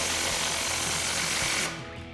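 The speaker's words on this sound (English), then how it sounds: "Now we can tighten this down with our 21mm socket." An air impact wrench with a 21mm socket drives a suspension track bar bolt on a RAM 1500 during a lift kit install, a loud continuous rattling buzz close by for nearly two seconds before cutting off.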